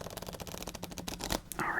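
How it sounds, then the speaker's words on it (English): Playing cards riffled and shuffled at close range, a crisp rapid flutter of card edges lasting under two seconds, ending in a brief brighter burst as the deck comes together, during an ASMR solitaire session. "That's user error on the shuffling, not the fault of the cards."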